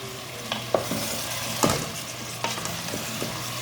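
Spices sizzle and fry in hot oil as cardamom and cinnamon go into a pan with garlic and ginger paste, a steady crackle broken by a few sharp stirring knocks, close and fairly loud.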